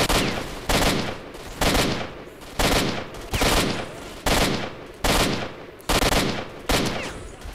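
Repeated bursts of gunfire in the video game S.T.A.L.K.E.R.: Shadow of Chernobyl, about eight loud volleys at a steady rhythm, each a sharp crack trailing into a short decay, with no voices.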